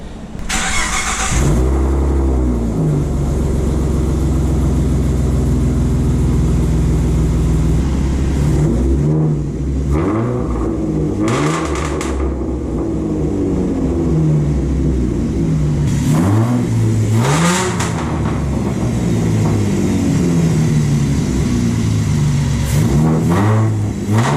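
Tuned Ford Mustang with a 3.7 V6 on a stock map, running loud and close as the engine revs repeatedly in rising and falling sweeps over a steady idle, with no talking.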